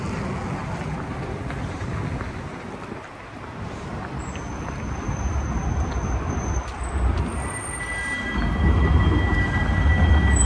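A tram passes along a cold Moscow street in the old city, a steady low rumble that swells toward the end, with faint high metallic whines above it and no talking.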